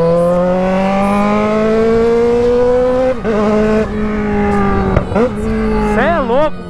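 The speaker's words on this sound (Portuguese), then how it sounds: "a XJ ela berra muito, tá ligado? Mas muito, muito. Ela tem um som ardidinho" A Yamaha XJ6 motorcycle's loud straight-pipe exhaust drones steadily, then blips through several sharp revs near the end, rising and falling in pitch.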